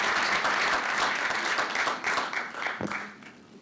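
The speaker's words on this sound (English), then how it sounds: "with a round of applause" Applause from a meeting audience after a panel session, a dense steady patter of many hands clapping that thins and fades toward the end.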